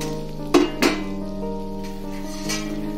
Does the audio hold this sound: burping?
no